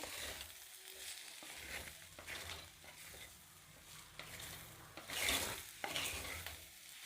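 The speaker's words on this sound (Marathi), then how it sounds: "सगळे मसाले ॲड करून बटाट्याच्या फोडी चांगल्या परतून घ्यायच्या आहेत" Potato pieces with turmeric, coriander powder and other spices are stir-fried in a pan, with repeated scraping stirs and a soft sizzle heard up close, without talk.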